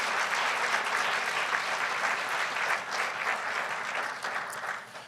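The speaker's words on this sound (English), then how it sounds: "Let's give all of these individuals a rousing round of applause." An audience at a community college address gives a sustained round of applause, dense steady clapping that slowly fades toward the end.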